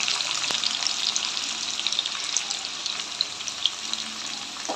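Onions frying in oil with chillies, curry leaves and garlic for a Tamil-style fish curry, a continuous bright crackling sizzle, close and steady throughout with occasional stirring.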